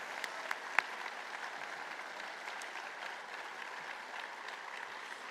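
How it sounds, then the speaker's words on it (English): An audience at an honoring-the-brave breakfast applauds an award winner, a judge, with faint, distant, steady clapping from a room of people, a few sharper claps standing out near the start. "Let's give him a round of applause."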